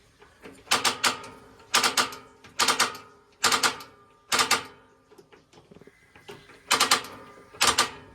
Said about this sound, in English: You got your 3 burners right here, and then it does have a sparker.